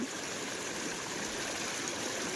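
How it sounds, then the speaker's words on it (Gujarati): Floodwater gushes without pause through a breached embankment in the Ghed area of Junagadh after heavy monsoon rain. The roar is a steady, even wash of rushing water with no other sounds. "ત્યાંથી અનલિમિટેડ પાણી નીકળે છે"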